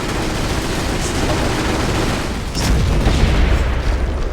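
A high explosive round fired at a barracks in Company of Heroes, set among loud battle noise with rattling gunfire and a heavier boom that swells partway through.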